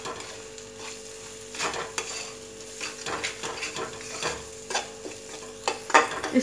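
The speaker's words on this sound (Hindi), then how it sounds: "इसको अच्छे से भून जाने दूंगी कि ताकि ये मसाले जो हैं ये कच्चे बिल्कुल भी ना लगे" A spice mixture of garam masala, cumin powder and salt being fried and stirred in a pan, with a continuous low sizzle and a rhythmic series of close scraping spatula strokes.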